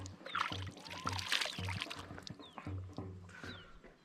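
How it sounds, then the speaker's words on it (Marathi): River water splashes and pours as a person washes their face in a clear river near Itkheda, Buldhana, with steady, close splashing and trickling throughout, a few faint bird chirps above it, and no speech. "मी आता ना तोंड धुवून घेतो इथे मस्त पाणी आहे"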